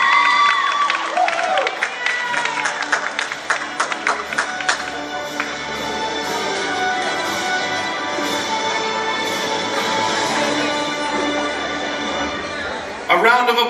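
A crowd at a school closing ceremony cheers and claps for the Year 6 graduating class, with scattered whoops and children shouting in a lively, sustained burst that fades near the end.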